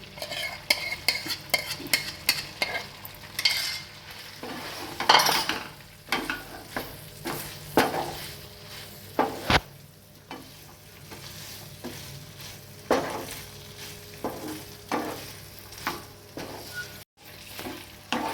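Fried mixed vegetables and paneer-curry spice paste are sautéed together in a pan, a continuous sizzle punctuated by frequent spatula scrapes and knocks against the metal.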